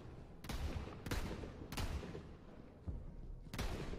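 Borderlands 3 weapon fire, heavy booming shots in spaced bursts of roughly one every half second to second, loud and close with dense rumbling tails.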